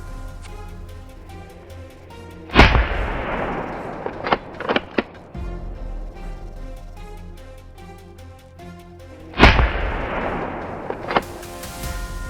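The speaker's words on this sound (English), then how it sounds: "my friend fired another shot, officially killing a wild boar" Two loud gunshots boom through a forest during a wild boar hunt, each with a long rolling echo, separated by several seconds, with smaller knocks and faint noises between them.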